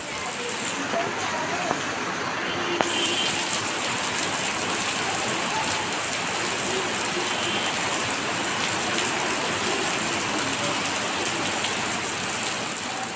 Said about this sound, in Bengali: দেখেন বৃষ্টি কিন্তু অনেক বৃষ্টি হচ্ছিল